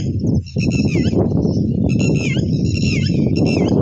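Birds at a lake where white and golden ducks gather, a busy mix of chirps and calls layered over a loud, steady outdoor rumble throughout.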